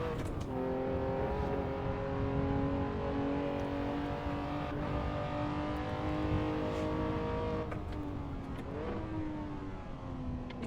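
A 1960s GT racing car engine in the Assetto Corsa game, a steady loud harmonic drone that rises in pitch under acceleration, then briefly drops with a gear change before climbing again.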